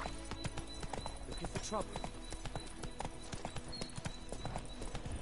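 Horse hooves clip-clop steadily at a run in The Witcher video game, a continuous rapid rhythm close by, with a voice speaking briefly over it.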